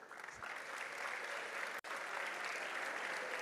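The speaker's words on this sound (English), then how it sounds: "Let's give them another round of applause." Audience applause at the SOS-HGIC 2023 graduation ceremony, a continuous broad wash of many hands clapping, heard somewhat distant and soft, with a brief dropout partway through.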